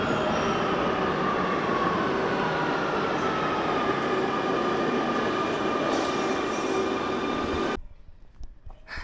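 A metro tube train rumbles loudly and steadily through the station with sustained wheel noise and a high squeal, then cuts off abruptly near the end, leaving quiet.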